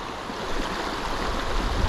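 Fast-flowing river water rushing steadily during fly fishing, a continuous close broadband wash with no voices.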